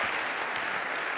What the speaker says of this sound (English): A round of applause, please, for the volunteers.